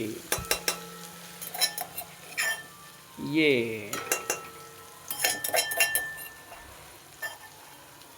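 Onions sizzle in hot oil in a kadhai while a spoon stirs and clinks against the metal, giving intermittent scrapes and taps over a soft frying hiss, with a brief voice heard.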